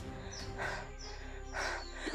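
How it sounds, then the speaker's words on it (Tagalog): A crow caws outdoors, giving two harsh, fairly loud calls about a second apart, with faint background noise in between. "Uwak."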